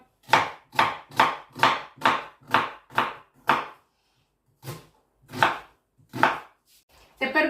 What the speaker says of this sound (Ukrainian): І ріжемо цибульку.